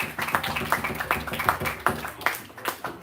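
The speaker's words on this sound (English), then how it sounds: "So round of applause for Phil." A small meeting audience gives Phil a round of applause, a sparse few hands clapping in a fairly regular, slightly ragged rhythm, close and moderately loud, fading out near the end.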